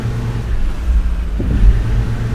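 A tour bus in the Tourist Bus Simulator video game pulls out, its engine producing a low, steady rumble that rises slightly, with no talking.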